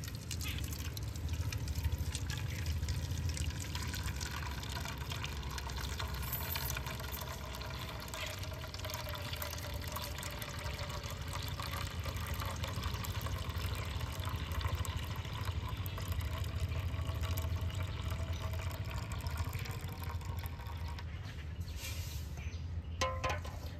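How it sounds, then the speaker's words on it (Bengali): Water is poured steadily into a container while rinsing potatoes, a continuous, even splashing flow lasting the whole stretch at moderate volume, with no one speaking. "এবার আমি এই জলটা একটা পাত্রের মধ্যে ঢেলে দেব"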